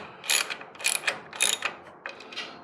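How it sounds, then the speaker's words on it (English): Ratcheting wrench tightening the mounting bolts of a Rotopax container on a DV8 tire carrier: four bursts of clicking ratchet strokes, close and clear, with no talking. "we don't want to tighten these down too much"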